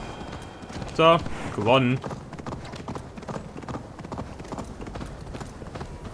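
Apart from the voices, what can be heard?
horse galloping hooves in video game Assassin's Creed Valhalla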